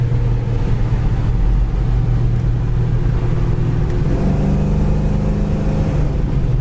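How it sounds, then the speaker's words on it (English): A 1969 Chevy Chevelle SS accelerates with a loud, deep, steady engine rumble heard from inside, the pitch dropping as the transmission shifts around the middle of the run, with no talk. "Transmission shifts great, first, second, third."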